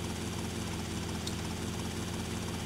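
Steady helicopter rotor and engine drone from a Rockstar video game, a continuous broadband whir holding even and fairly loud throughout.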